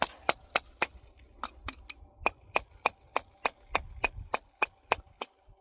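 A hammer strikes stone while a drystack wall is built, landing about twenty sharp, ringing blows in a steady rhythm, loud and close with no talk.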